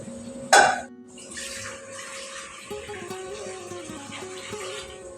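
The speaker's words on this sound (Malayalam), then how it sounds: "ആദ്യം നമുക്ക് അരി വേവിക്കാനുള്ള വെള്ളം വെച്ചു കൊടുക്കാം" Water pours into a cooking pot to be boiled for rice, opening with a sharp metallic clank, then a continuous gentle splashing, close and moderately quiet.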